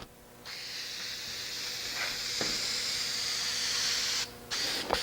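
A spray can hisses onto a model aircraft wing in several steady bursts, with short breaks between them, close and fairly loud.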